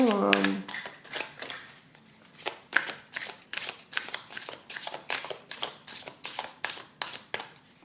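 Light Seer's Tarot cards shuffled by hand, a steady series of crisp riffling bursts about every half second, close and clear, after a brief voice at the start.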